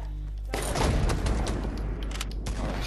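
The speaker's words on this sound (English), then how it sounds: "I hear shotguns. Shotguns right above us." Video game shotgun fire erupts suddenly after a short quiet lead-in, loud heavy blasts and booms continuing in a dense cluster to the end.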